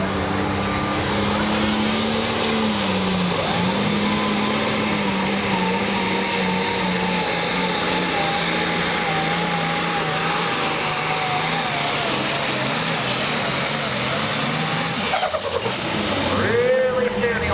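An International pulling truck roars loudly and continuously at a truck and tractor pull, its engine note rising and shifting in pitch throughout, with crowd and announcer voices faintly under the din.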